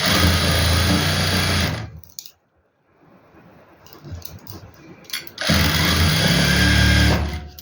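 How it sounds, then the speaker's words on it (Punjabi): Loud, whirring stitching from a sewing machine sewing lace onto a suit, running in two fast bursts separated by a quiet pause with faint handling sounds. "ਤੁਸੀਂ ਜਿੰਨੀ ਚਾਹੋ ਉਨੀ ਪੱਟੀ ਬਾਹਰ ਰੱਖ ਕੇ ਸਲਾਈ ਲਗਾ ਸਕਦੇ ਹੋ"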